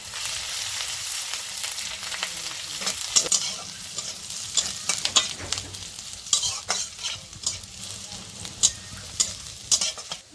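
Steady sizzling of garlic and onion frying in a pan with cumin, with repeated scraping clicks from stirring throughout; no voices.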